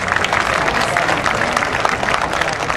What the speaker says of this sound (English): So thank them with a round of applause